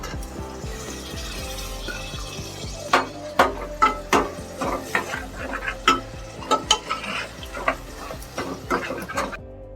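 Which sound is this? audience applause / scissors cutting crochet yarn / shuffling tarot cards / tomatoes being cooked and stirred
tomatoes being cooked and stirred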